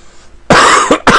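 A man coughs hard at the microphone during a Panzer General gameplay session, two loud close bursts after a quiet pause, the second briefly clipped.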